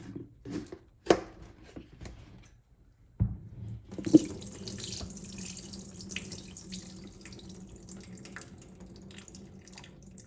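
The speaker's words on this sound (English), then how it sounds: "I'm going to drain all the liquid from here." Liquid drained from a jar of mixed vegetable pickle (achaar) the morning after salting, a steady running, splashing pour into a sink that starts after a few knocks and handling sounds and continues close by without talk.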